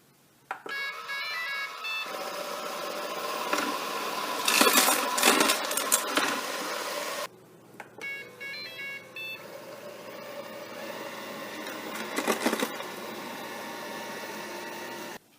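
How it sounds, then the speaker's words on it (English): A Shark ION Robot 750 robotic vacuum runs steadily while sucking up Fruit Loops cereal, first on a bare floor and then on carpet, with a whirring hum, clattering bursts of pickup, and a few electronic beeps, no talking. "We've got a clip of it dealing with Fruit Loops on a bare surface and also on carpet."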